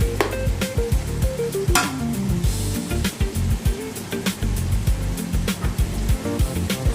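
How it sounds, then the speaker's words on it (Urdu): Green chillies frying in hot oil in a home kitchen, a loud continuous sizzle broken by frequent scraping and stirring knocks of a spoon against the pan. "چند سیکنڈ ہی ہم بھونیں گے بس ہری مرچوں کو، تاکہ اس کا فلیور آئل کے اندر آ جائے۔"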